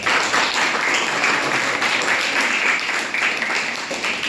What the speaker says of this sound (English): So clapping for the brother.